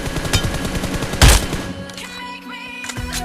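Gunfire in PUBG mobile on a Redmi 9A while crouching: a dense burst of shots with one loud sharp blast near the middle, then quieter trailing reports over steady game ambience.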